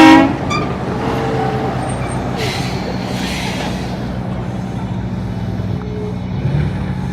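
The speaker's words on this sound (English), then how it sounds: "Oh, there's someone honking horns." A vehicle horn toots a couple of times near the start, loud and fairly close, then passing road traffic keeps up a steady hum without voices.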